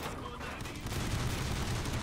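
Dense, continuous gunfire from the Toy Soldiers War Chest video game on Xbox, a steady loud barrage of rapid shots and blasts that swells slightly toward the end, with no pauses and no talking.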